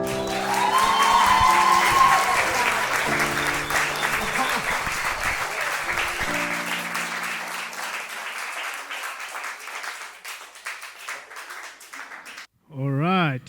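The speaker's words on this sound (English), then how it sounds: "Can we give them another round of applause, ladies and gentlemen?" Applause from an audience at a luncheon on the inclusion of people with disability, sustained clapping swelling loud then gradually thinning out, mixed with music and crowd sound, ending with a brief voice.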